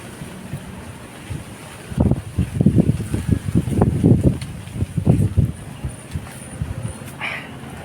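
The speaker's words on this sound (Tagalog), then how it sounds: "grabe hangin." Strong gusty wind buffets the microphone in a mango orchard, roaring in irregular close bursts across the middle of the clip with quieter stretches before and after.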